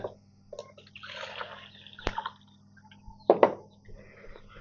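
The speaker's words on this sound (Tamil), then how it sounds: "தண்ணி ஃபுல்லாக ஊற்றல கம்மியாக தான் ஊற்றி காட்டுறேன் உங்களுக்காக" Water poured from a jug into an egg incubator tray, heard as brief soft splashes and trickles with a sharp knock near the middle, faint and close, with quiet pauses between pours.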